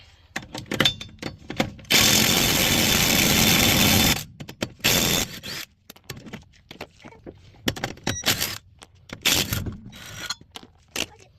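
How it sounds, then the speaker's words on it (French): Impact wrench fitted with a 17 mm socket, used while replacing brake discs and pads, gives a loud sustained two-second burst of rattling hammering, then shorter bursts among clanks and tool handling. "on prend la clé de 17, on vient le mettre sur la clé à choc"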